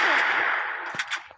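Gunfire in a shooting video game, a short burst of rapid shots that trails into a few sharper single cracks, loud and close.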